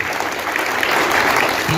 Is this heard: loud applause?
yes